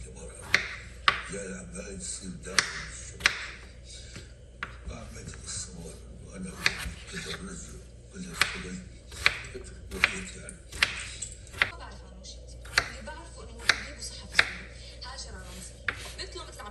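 A knife chops peeled potatoes into cubes on a board, giving crisp, sharp taps at an uneven pace across the whole stretch, close by, with quiet background sound beneath.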